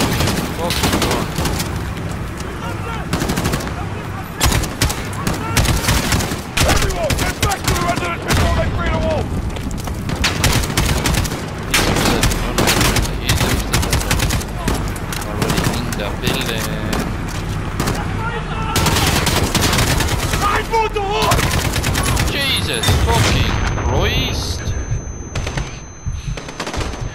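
Dense machine-gun and rifle fire with heavy booms in a Call of Duty: Modern Warfare embassy campaign mission, continuous and loud, with shouting voices mixed into the chaos.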